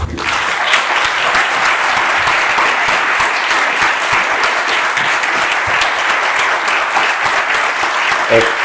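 Loud, dense audience applause at a farewell for Enrique Vegas, a full crowd clapping continuously and evenly for the whole stretch.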